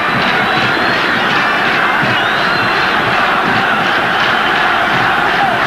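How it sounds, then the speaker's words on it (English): A football stadium crowd at a 1994 Africa Cup of Nations match between Nigeria and Zambia roars in a loud, continuous, dense wall of cheering with no break. "Crowd roar them on."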